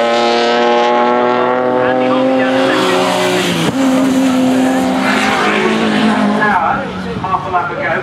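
Honda VTEC racing cars in a 2011 NSSCC sedan race roar past on a circuit, a loud, rising and falling engine drone with a sharp change as one car passes close by, while a commentator talks over it.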